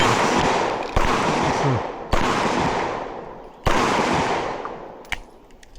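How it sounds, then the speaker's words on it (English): Loud, sharp pistol shots from a Canik MC9 Prime or TTI Combat handgun at a shooting range, about four spaced blasts each with a long ringing decay, with someone briefly speaking between shots. "I love shooting this gun"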